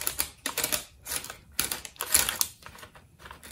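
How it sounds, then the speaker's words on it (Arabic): Oat and dried fruit bars with honey pressed firmly into a tray with a spatula, giving repeated close scraping and clacking bursts in an uneven rhythm, loud and without any talk. "وهبتدي اضغط بالسباتشولا"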